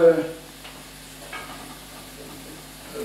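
Sausage meat frying in a saucepan as it is broken up, a faint steady sizzle with a few soft stirring scrapes, after a brief voice at the start.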